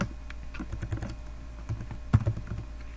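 A password is typed on a computer keyboard, a short run of soft, close key clicks in an uneven rhythm with one louder tap near the end, heard alone.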